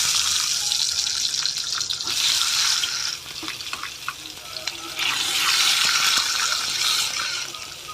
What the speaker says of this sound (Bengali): তো এক এক করে আমি এখানে সব ডিম ছেড়ে দিচ্ছি দেখো।